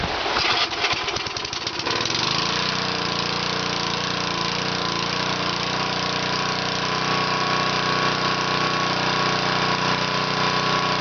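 A small engine fitted with a JB Weld piston and a Plexiglass cylinder head runs steadily and loudly close by, a continuous buzzing drone after a rougher, sputtering start in the first couple of seconds.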